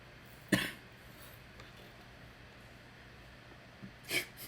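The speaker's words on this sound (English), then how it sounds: "Cough it. Let it out." Two short, sharp human coughs, one close and loud near the start and a second, softer pair near the end, with quiet room noise in between.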